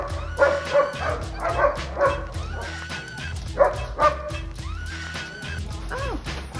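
A Belgian Malinois barks in a rapid, excited series of yelps and whines, with some high, wavering cries that rise and fall. The calls are close and loud over a busy background.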